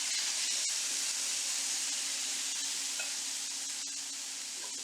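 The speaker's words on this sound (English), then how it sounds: "Sear your catfish or any fish you want." Catfish searing on a hot griddle gives a steady, even sizzle and hiss throughout, with no talking.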